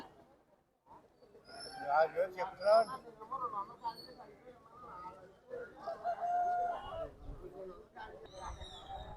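Rooster crowing at a Saturday country chicken market in a village, with a couple of clear, fairly close crows rising over people talking and bargaining nearby.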